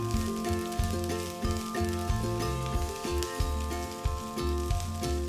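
Chopped ivy gourd, green chillies and coriander roasting in a pan for Andhra chutney, a steady soft sizzle with faint stirring scrapes, alone and fairly quiet.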